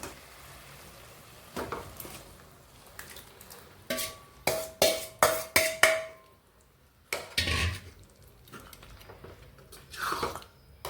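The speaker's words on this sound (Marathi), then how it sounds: "हे छान मिक्स करून घेऊया भाजी आपण" A spoon stirring mashed vegetables for pav bhaji in a pan, with a run of sharp, loud scraping clanks in quick succession, then softer scraping and mixing sounds spread across the rest.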